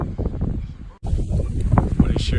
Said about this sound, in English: I want to share with you kind of how windy it is up here.